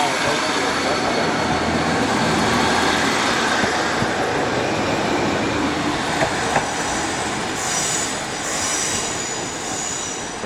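Class 155 diesel multiple unit 155346 pulls out of Leeds station on a service to Nottingham via Wakefield, a steady loud rumble of wheels and engine with brief high squeals, under faint voices on the platform.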